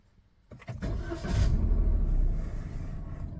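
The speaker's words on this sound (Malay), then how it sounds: "Kemudian start engine." A Perodua Axia's engine cranks and starts after a brief pause, then settles into a steady, loud idle rumble close by with no one talking.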